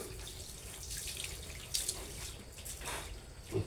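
Water running from a tap to bathe piglets, a faint steady splashing trickle with a few louder splashes and drips, close by.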